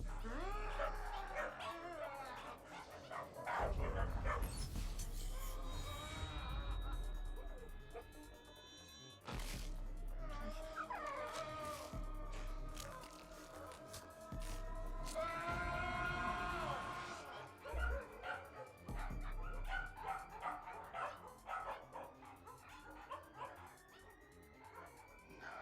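Several dogs bark, yip and whimper in a live-action Cowboy Bebop scene, a busy, overlapping chorus that rises and falls throughout, with voices talking beneath and among the animals.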